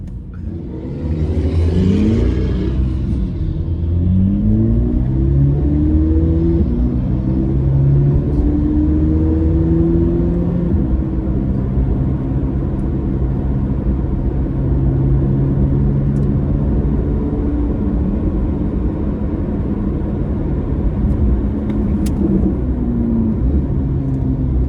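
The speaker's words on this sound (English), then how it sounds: "Oh, that exhaust is something." A car's exhaust rumbles loud and close as it accelerates hard, the deep engine note climbing in pitch through a long, continuous pull with no talking over it.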